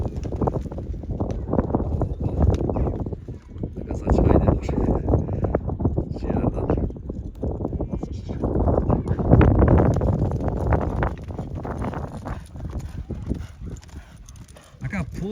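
A bay horse's hooves clip-clop in a steady, continuous rhythm on open ground, with wind noise and people talking over it.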